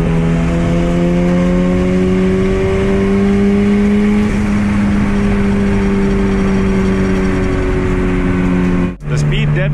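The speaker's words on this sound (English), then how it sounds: "you just floor it and you're already in the power band" A boosted Honda CRX engine held at high revs under full throttle, a loud sustained drone with harmonics rising slightly, heard from inside the car, cutting briefly near the end.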